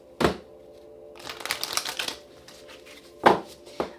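Tarot cards being shuffled by hand, a crisp riffle at the start, a longer run of flicking, rustling card noise in the middle, then two sharp snaps near the end, close and fairly loud with no talking.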